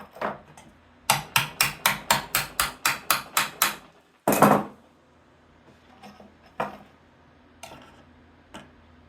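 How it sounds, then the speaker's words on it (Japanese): A metal bracket clamped in a vise is struck repeatedly with a hammer to bend it, about ten sharp, evenly spaced ringing blows in quick succession, then a heavier knock and a few scattered taps, close and loud. "バイスとハンマーで曲げるのは一番簡単です。"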